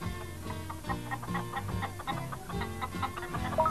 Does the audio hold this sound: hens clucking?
yes